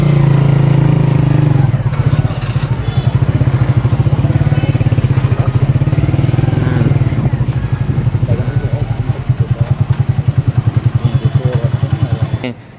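A motorcycle engine runs steadily and loud and close while the bike is being parked near a national park in Bahawalpur, South Punjab, with a rapid putter and a few thumps and clatters mixed in.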